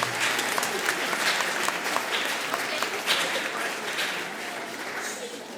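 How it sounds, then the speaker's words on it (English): Audience at a spring high school and middle school music program giving a sustained round of applause after a song, dense steady clapping from a large room that eases slightly toward the end. "We give them another round of applause for their Spanish."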